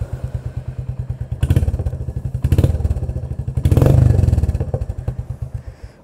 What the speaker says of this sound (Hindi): अभी बाइक को स्टार्ट करते हैं और एग्जॉस्ट नोट सुनाते हैं